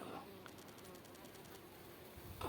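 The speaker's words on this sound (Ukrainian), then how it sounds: "Джмелик в мене там літає." A bumblebee buzzes steadily in a garden greenhouse, a soft continuous hum with faint rustling and a louder bump near the end.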